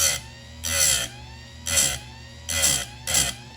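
Oregon 310-120 mini bench grinder sharpening a saw chain with quick taps: five short, bright grinding bursts about half a second each, separated by brief pauses while the motor hums steadily underneath.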